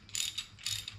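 Ratchet tightening a bolt on a vehicle transfer case, a quick pair of close metallic clicking bursts from the pawl in a short isolated moment.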